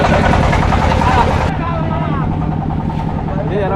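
A trawler boat's engine during a river trip, a steady loud drone running throughout with a faint voice speaking over it.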